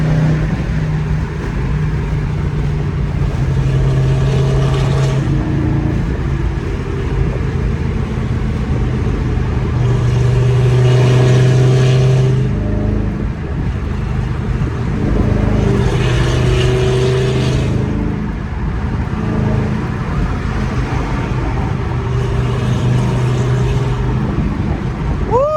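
Dodge Daytona Hellcat engine roars as the car accelerates, with deep rising revs in repeated surges over steady road and cabin noise, heard from inside the car while people talk.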